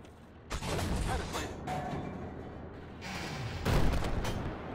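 Artillery firing in a tank video game, a few muffled booming shots and rumbling impacts spread over a few seconds, fairly faint beneath the game's background noise.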